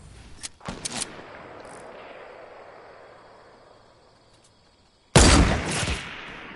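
Bursts of gunfire from the Fortnite battle royale video game, a few sharp shots early on and a loud, dense volley near the end, with a quieter stretch between.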